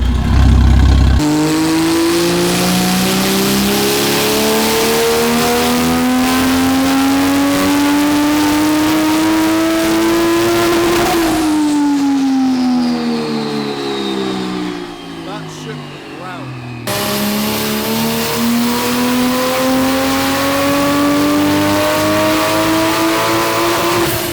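A Toyota A90 Supra with its turbo boost turned up revs hard through repeated rising pulls, loud and close, with a brief drop-off between runs before climbing again.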